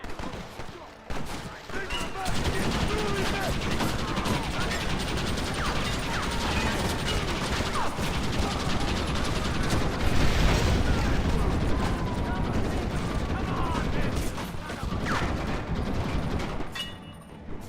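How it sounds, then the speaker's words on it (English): A gatling gun in Red Dead Redemption rattling off long rapid continuous bursts amid a ranch gunfight, loud and dense with mechanical clatter, while voices call out over it. "Marcy, use that gatling gun"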